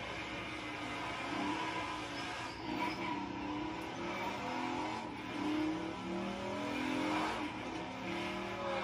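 A motorcycle engine revs steadily in a video game, an Indian Scout whose throaty roar rises and falls in repeated pulls, loud and continuous with a synthetic, game-like quality.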